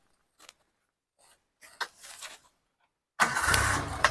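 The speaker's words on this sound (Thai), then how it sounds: "นี่เดี๋ยวสตาร์ทเครื่องให้ดูหน่อย" A Suzuki Caribian with its original carbureted 1300cc engine starting: a few quiet clicks and a brief starter crank, a pause, then the engine catches and runs steadily at idle, close and fairly loud.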